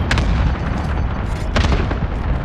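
Airstrike explosions in Call of Duty: Modern Warfare land as heavy, rumbling booms, with two sharp blasts over a continuous deep roar, loud and close.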